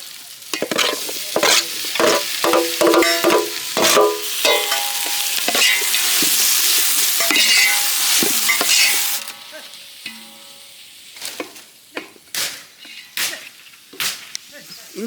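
Goat intestine gravy with mint and tomato frying in a pan, loud sizzling with brisk spoon stirring and scraping for several seconds, then the sizzle drops to a softer simmer broken by scattered clinks and knocks.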